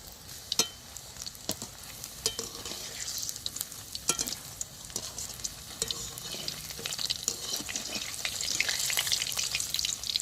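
Banana flower balls fry in hot oil while being turned, giving a steady close-up sizzle with scattered sharp clicks and scrapes from stirring. No voices are heard.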